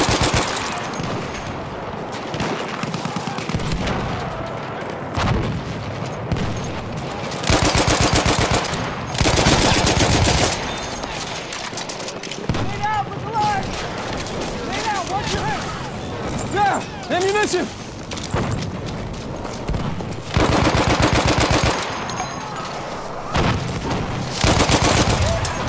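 Light machine gun fire in the video game Battlefield 1 in a woodland setting, several long loud bursts of rapid automatic shots with gaps between, alongside other battlefield noise and players talking.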